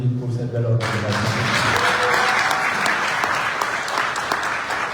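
Audience applause fills a political meeting hall, a steady dense clapping that starts right after a brief voice and carries on loud and sustained to the end.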